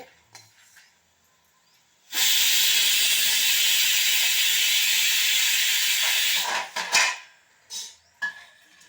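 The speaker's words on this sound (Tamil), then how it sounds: "இப்போ வந்து இந்த அரிசி வந்து பொரிஞ்சு வந்துடுது" Rice fries and pops in a hot pan while cooking a greens stir-fry, a loud sudden sizzling hiss lasting about four seconds, then fading into a few clinks of utensils.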